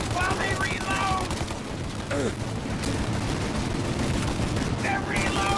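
Gunfire during a shootout in the video game Mafia: Definitive Edition, dense overlapping shots and bursts forming a continuous roar, with voices shouting over the firing.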